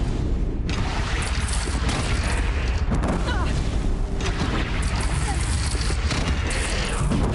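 A bridge shot down in Horizon Zero Dawn collapses in a sustained, loud roar of explosions and crashing debris, dense rumbling blasts filling the whole stretch.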